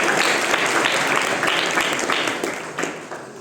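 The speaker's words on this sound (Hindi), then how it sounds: "ताली बजाओ।" An audience at a Hindi religious discourse claps in a burst of applause, many hands patting in a dense, rippling patter that fades gradually near the end.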